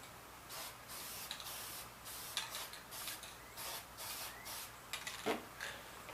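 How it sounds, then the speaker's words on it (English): Repeated short bursts of aerosol spray paint hiss, close by, in an uneven rhythm with brief pauses and light rubbing between them, outdoors on a 1964 Ford Galaxie. "Remember to spray in light,"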